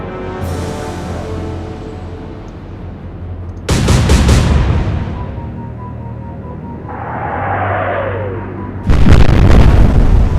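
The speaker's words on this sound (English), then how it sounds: "It's like 3, maybe 4 more shells landing." Naval shells slam into the German cruiser Graf Spee in an Atlantic Fleet game battle: a loud boom, a second heavy blast near four seconds, a whistling descent, then a final sharp explosion, all without talk.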